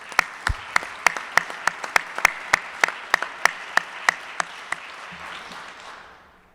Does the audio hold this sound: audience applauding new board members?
yes